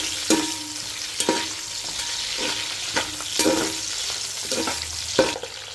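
Ingredients for chicken biryani fry in a pot under a steady sizzle, while a spoon scrapes and stirs in regular, clattering strokes close by.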